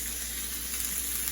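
Onions frying in olive oil for a cheeseburger, a steady close hiss and sizzle with faint crackling throughout, without any speech.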